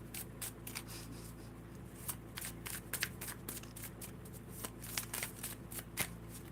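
A deck of oracle cards shuffled by hand at close range, with quiet repeated riffling bursts and soft slaps in an irregular rhythm and no talking.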